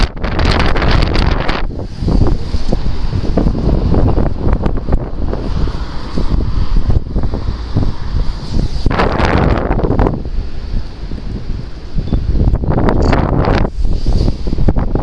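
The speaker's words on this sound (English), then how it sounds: "it's absolutely windy today, and yeah, because of the wind and the cold" Strong, cold wind blows hard across an outdoor urban street in the UK, roaring and buffeting the microphone in a continuous, loud rush with gusts that swell and ease, and no voices.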